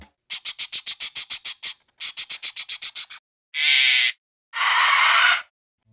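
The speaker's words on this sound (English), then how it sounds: "It's a parrot." A parrot calling: a rapid series of short repeated squawks in two bursts, then two long harsh screeches, loud and close with silence between.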